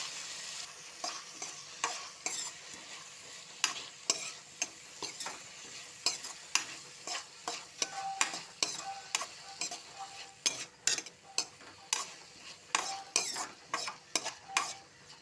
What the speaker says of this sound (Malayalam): തക്കാളി 2 എണ്ണം, പിന്നെ മല്ലിയില, നമുക്ക് ഒരു വെളുത്തുള്ളി, ഇതെല്ലാം കൂടെ നമുക്ക് ഇട്ടിട്ട് ഒന്ന് വഴറ്റിയെടുക്കാം